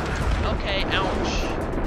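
Gunfire in the video game Max Payne, a dense, noisy clatter of shots with a steady loud roar throughout, likely with a voice speaking over it.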